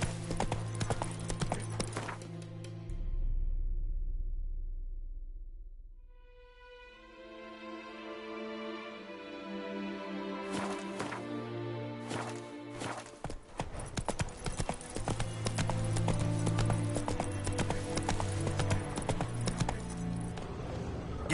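Horse hooves clip-clopping at a gallop in The Witcher 3 game, a steady rhythmic beat running through most of the stretch alongside music and other game sounds, briefly dropping away near the start.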